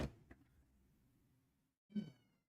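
A pet cat, a female, meows loudly and close: one drawn-out cry at the start, a short sharp chirp just after, then a second strong meow following a brief pause. No one talks.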